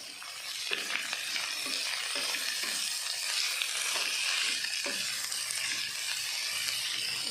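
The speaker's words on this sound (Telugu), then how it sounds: "ఇప్పుడు ముక్కలుగా తరిగి పెట్టుకున్న తోటకూర కూడా వేసి లైట్గా ఫ్రై చేసుకోవాలి" Amaranth leaves fry lightly with onions in a pan, giving a steady, continuous sizzle broken by occasional stirring scrapes, close and clear without any voices.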